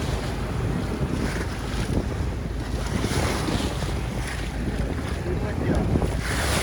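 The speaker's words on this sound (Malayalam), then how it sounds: "വേറൊരു ഹൗസ് ബോട്ട് ഇങ്ങനെ പോകുന്നതാണ് ആ കാണുന്നത് കേട്ടോ." A houseboat cruising on a backwater lake at Kumarakom gives a steady rush of water and waves against the hull, with strong wind buffeting the microphone throughout.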